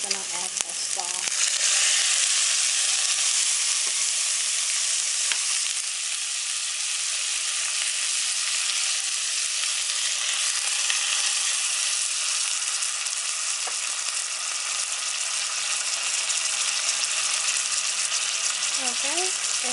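Chicken with onions and shallots sizzles and fries steadily in a pan after sauce is poured in, a loud, even crackling hiss that holds for the whole stretch with occasional stirring.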